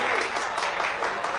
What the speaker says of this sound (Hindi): इनके लिए जोरदार तालियां प्लीज